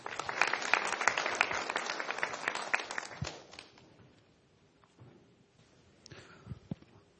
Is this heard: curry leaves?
no